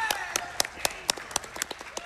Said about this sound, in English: Honestly, I think we should clap for that. That was a really good grab. We're clapping for that right there.